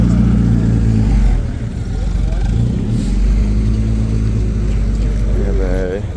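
A BMW M4 at a supercar meet runs with a loud, deep engine rumble that holds steady and close throughout, with a brief dip early on and a voice talking over it.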